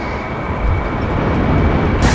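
F-14B Tomcat jet engines at full throttle in a flight-sim video game, a loud steady broadband roar that swells slightly and holds, with a brief hiss rising near the end; no talking.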